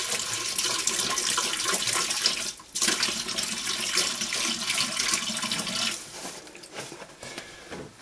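Tap water running into a plain dog bowl, a steady close splashing gush that briefly cuts out and resumes, then softens toward the end.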